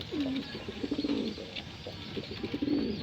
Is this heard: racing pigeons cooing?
yes